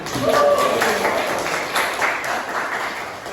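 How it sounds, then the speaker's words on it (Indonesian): Students in a classroom clap briefly for a classmate, a scattered burst of applause under a teacher's and children's voices, loudest early and fading within a few seconds. "Ya, tepuk tangan."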